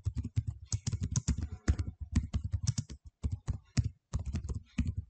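Rapid, uneven clatter of keys on a computer keyboard, typed close and steadily throughout with brief pauses, no voices.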